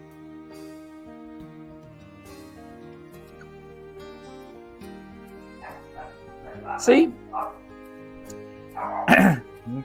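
Dogs give a couple of sharp barks and yips near the end, loud over a quiet background of sustained tones, while people talk indoors.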